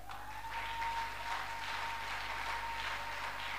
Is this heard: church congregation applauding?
yes